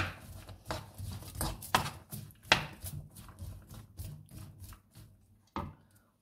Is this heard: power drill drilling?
no